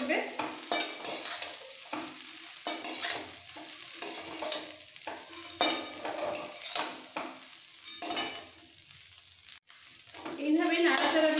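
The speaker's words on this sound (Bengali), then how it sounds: "এইভাবে নাড়াচাড়া দিতে দিতে এগ চাউমিন একদম রেডি" Egg chowmein being stirred and tossed in a hot pan, with steady sizzling broken by repeated scraping strokes of a spatula, close and moderately loud, with brief voice-like sounds mixed in.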